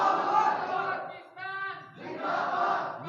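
A crowd at a Defense Day speech roars a slogan back in unison after a leader's call, a loud, dense swell of many voices with a brief lull and a sustained tonal shout in the middle.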